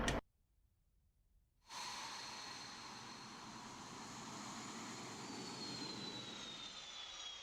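A steady jet engine roar from a flight video game during a test flight rises abruptly out of near silence and then holds loud and broadband, with a faint whining tone running through it.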